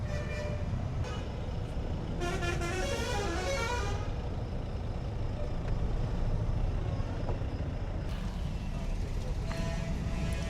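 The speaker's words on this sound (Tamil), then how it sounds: "இன்னைக்கு பார்த்ததில் பயங்கரமான டிராஃபிக் இது ஒன்று தான் இப்போதைக்கு." Dense road traffic rumbling continuously on the Chennai to Kanniyakumari route, heard from a bus, with a burst of car horns honking a few seconds in and another near the end.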